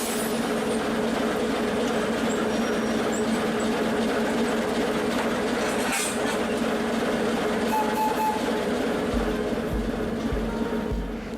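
A Soviet-era third-class sleeper train runs over the rails in Ukraine, heard from on board as a steady, close rumble with a low hum and a soft rhythmic clickety-clack of wheels toward the end.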